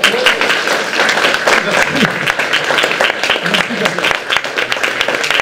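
An audience applauds warmly at the end of a talk on the brain, dense continuous clapping filling the room while a voice briefly says thanks over it.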